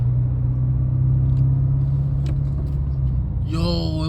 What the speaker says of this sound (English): Yo, it was a fucking car. A fucking Civic.